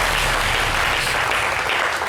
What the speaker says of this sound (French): applaudit pour ma camarade